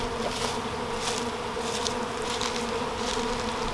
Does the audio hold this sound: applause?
no